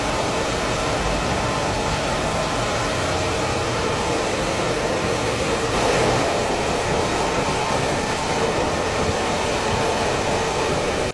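Mac Styler heavy-duty hair blower running continuously, a loud, steady, close-up whooshing roar of air that holds level throughout with no talking.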